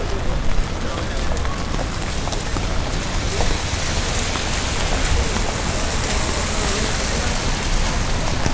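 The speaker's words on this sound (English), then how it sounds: "Started raining like crazy." Heavy rain pouring down outdoors onto concrete, a dense continuous hiss of drops with scattered louder splashes; faint voices may sit under it.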